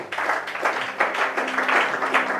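An audience at a French-language Bible teaching applauds, a dense, steady round of clapping that swells in a few waves and stays fairly close.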